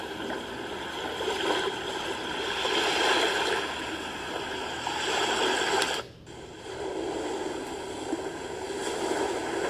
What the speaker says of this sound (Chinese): 接近海浪沙滩的那种拍打声音。